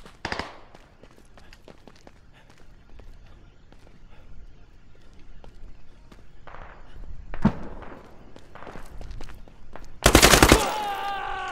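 Bursts of rifle fire in the military shooter Squad crack out sporadically, mostly distant and faint, then a sharp, loud close volley near the end, with light footsteps and movement between shots.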